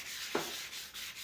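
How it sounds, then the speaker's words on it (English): Ambrosia maple wood buffed with Axe abrasive paste, a soft continuous rubbing hiss with one brief squeak, close and quiet. "now we're going to use some Axe abrasive paste on it"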